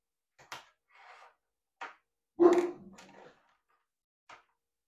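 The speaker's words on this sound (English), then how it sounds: "Pardon my dogs in the background." Excited dogs at home give scattered short barks and yips from the background, faint and intermittent with gaps of quiet between them.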